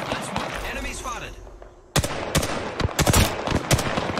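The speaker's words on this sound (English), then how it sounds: "Opening fire on the enemy." Gunfire in the Apex Legends shooter: after a quieter stretch of ambient game sound, a burst of close, loud automatic shots begins abruptly and keeps rattling in rapid, uneven volleys to the end.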